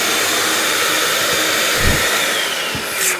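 An electric balloon inflator blows air into an Orbz foil balloon with a steady, loud whooshing hiss that runs the whole time, close up, with a few soft thumps and a brief squeak near the end.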